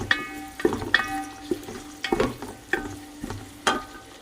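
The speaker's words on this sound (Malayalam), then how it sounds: "ഇനി നമുക്കിത് നന്നായിട്ട് മിക്സ് ചെയ്ത് ഒന്ന് വഴറ്റിയെടുക്കാം." Onions and slit green chillies being stirred and sautéed in a pan, with a steady near sizzle broken by regular scraping strokes of a spoon about every half second.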